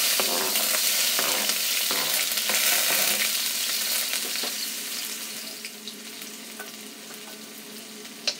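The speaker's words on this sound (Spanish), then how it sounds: "Vamos a empezar a freír ajo bien picado y jengibre bien picado." Chopped garlic and ginger fry in hot sesame oil, a steady bright sizzle with stirring scrapes that gradually softens toward the end, ending with a single sharp clink.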